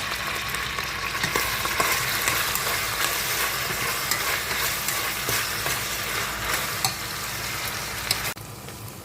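Okra sizzles and crackles steadily in a pan of hot oil, a loud continuous frying hiss with small pops, close up and without speech, cutting off sharply near the end.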